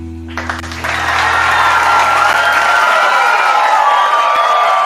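A live studio audience for a physical media talk show bursts into loud applause and cheering that swells quickly and holds steady, with a brief low tone fading underneath at the start.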